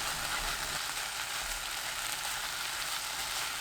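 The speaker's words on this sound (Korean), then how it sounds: "지글지글 소리 나기 시작하면 그때부터 1분 30초 더 볶습니다." Aged kimchi and tuna stir-fry in a pan on the stove, giving a steady, even hiss of sizzling oil that continues without pause, with no voices.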